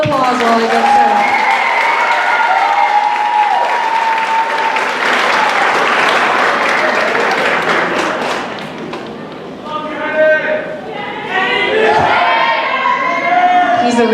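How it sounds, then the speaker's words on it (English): Loud audience applause and cheering fill a high school choir spring concert, with whoops over dense clapping and a few thuds. The applause eases near the end as people begin talking and shouting. "All right, let's give another round of applause while they get set up."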